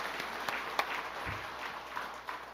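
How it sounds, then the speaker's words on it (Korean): A church congregation applauds at a Korean church service, with faint, scattered clapping under a quiet room hum throughout. "수고한 분들, 후원자들 여러분들 박수 한번 올려드립시다"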